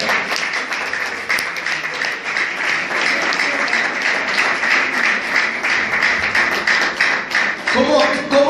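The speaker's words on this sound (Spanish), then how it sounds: "¡Dale palmas al Señor de gloria!" A church congregation claps hands together in praise, a loud, continuous and somewhat rhythmic patter of many palms that holds steady throughout, with voices rising briefly toward the end.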